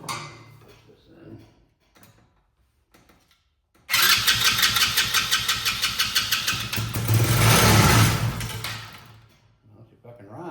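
A Chinese ATV on choke, quiet at first with faint talk and clicks, then the engine cranks with a loud rhythmic chugging, catches, and runs up into a louder steady roar before easing off.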